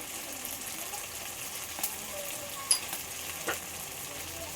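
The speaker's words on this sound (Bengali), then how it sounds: "সব একসাথে ভালো করে কষিয়ে নিই" Desi chicken cooking with coriander and cumin powder, frying in a pan with a steady low sizzle and a few soft stirring scrapes, no voices.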